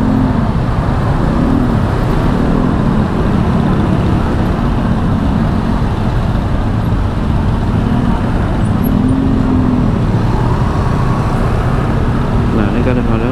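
Heavy jammed traffic at a U-turn point on a road between Depok and Jakarta, a dense, steady rumble of car and bus engines close by, constant and loud throughout.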